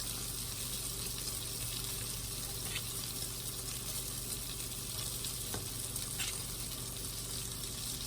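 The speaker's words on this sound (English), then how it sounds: "While your balsamic glaze is reducing and your bacon is frying" Bacon sizzles and spatters steadily in a frying pan, a constant close hiss with a few small pops and no one speaking.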